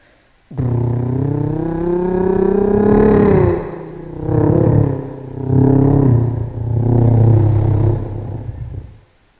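A preacher at a Sundanese sermon imitates a motorcycle engine with a standard exhaust revving, his voice rising and falling in loud, drawn-out surges over several seconds with short dips between revs.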